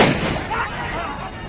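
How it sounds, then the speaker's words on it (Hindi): A sharp, loud gunshot or crude bomb blast cracks out at the start of a street clash, then a noisy, reverberant tail with crowd commotion fades over a moment. "गोलियां चल रही हैं,"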